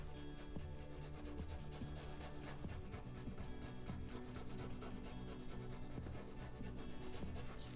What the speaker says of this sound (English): Just give it a good rub down.